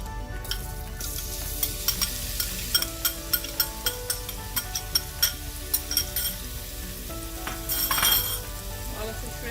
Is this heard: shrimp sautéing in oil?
yes